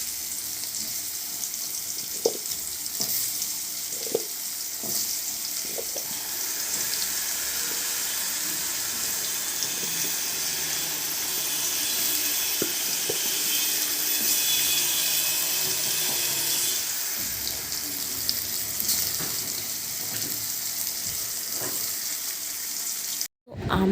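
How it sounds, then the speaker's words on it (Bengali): Kakrol (bitter gourd) fries in hot oil in a wok, giving a steady, loud crackling sizzle throughout, with occasional soft clicks and taps from handling the pieces, and no one speaking. "কড়াইয়ের তেল গরম হয়ে গেছে। তো আমি এবার কাঁকরোলগুলো দিয়ে দেবো এক একটা করে।"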